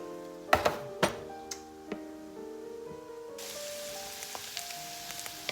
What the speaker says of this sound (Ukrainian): І зараз дамо до нашої пательні, де тушиться морква і цибуля